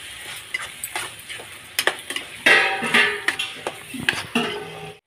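A prawn and drumstick curry with coriander powder and garam masala is stirred in a frying pan. A spoon clinks and scrapes against the metal in uneven strokes over a soft sizzle, close and clear with no talk.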